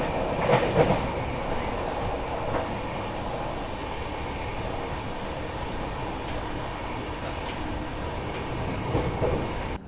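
A passenger train runs on rails through Haryana, heard from inside the carriage as a steady rumble with rhythmic wheel clatter over the joints and a few faint squeals.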